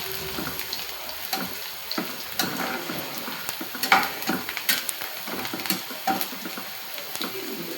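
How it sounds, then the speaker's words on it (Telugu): Onions frying in a pan until golden, a steady close sizzle with scattered crackles and light clinks of stirring throughout, no talk. "ఇట్లా ఉల్లిగడ్డలు గోల్డెన్ కలర్ వచ్చే వరకు వేయించుకోవాలి."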